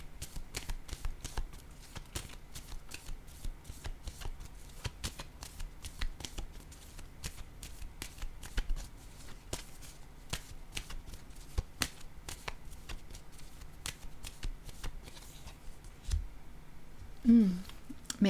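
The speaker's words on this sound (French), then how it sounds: "je vais déposer maintenant une carte entre les deux" Tarot cards are shuffled and laid down one by one with crisp, rapid flicks and soft taps that repeat steadily at close range. A brief faint voice comes near the end.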